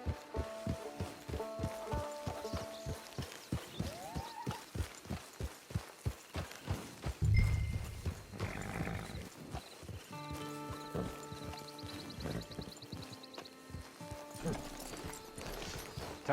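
Horse hooves clip-clop at a steady walking rhythm in Red Dead Redemption 2 near a camp, joined briefly by a snort or whinny, with game music and ambient tones underneath.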